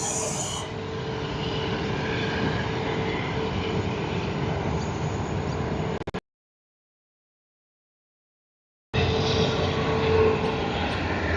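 An American Airlines airliner arriving at Sydney Airport from Los Angeles gives a loud, steady broadband jet roar that cuts out completely for about three seconds partway through, then returns just as strong.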